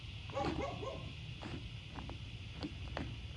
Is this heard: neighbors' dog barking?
yes